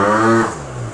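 A 94cc Malossi-kitted Derbi GP1 two-stroke motorbike engine fires briefly with a loud, close buzzing rev that quickly drops to a lower idle note.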